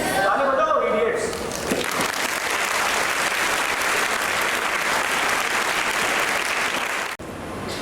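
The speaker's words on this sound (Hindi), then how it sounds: "ताली बजाओ" An audience at a spiritual talk session bursts into dense, steady clapping that fills the room for several seconds before cutting off abruptly; a speaker's voice is heard briefly at the start.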